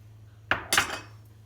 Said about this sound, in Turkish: Ve güzelce karıştırıyorum